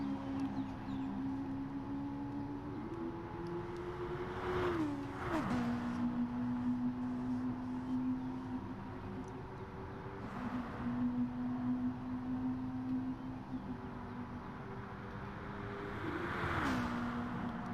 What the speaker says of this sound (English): listen to the sounds of these cars here at the Temple of Speed